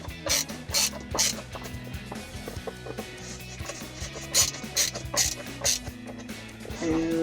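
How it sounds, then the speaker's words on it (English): A screw is driven into the bottom of a RedRock center console lock box in a 2005-2015 Toyota Tacoma, giving steady ratcheting, mechanical clicks close by over several seconds. "you'll need to hold the lid to get that bottom screw in"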